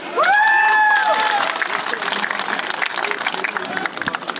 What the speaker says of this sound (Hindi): अरे हम भी चौकीदार, ठोको ताली।